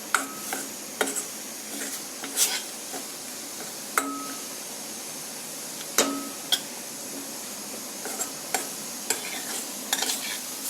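Garlic and ginger sautéing in a little oil for a mutton curry, a quiet, even sizzle broken by sharp clicks and taps of a spoon against the pan, with no talking.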